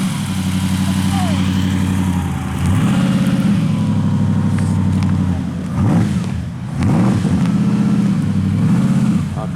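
A classic Bugatti engine runs at the Chantilly Arts & Elegance car show, idling with a steady low throb and rising in two revving swells, close and loud, with voices faint in the background.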